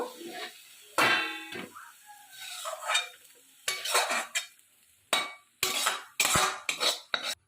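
Fried kalmi greens are scraped out of a wok into a dish with a metal spatula, giving a run of irregular, close scraping and clanking strokes separated by short pauses, with no talking.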